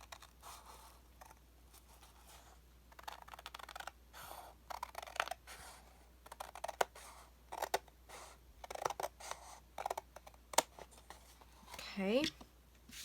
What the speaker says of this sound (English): So I'm just going to take my scissors down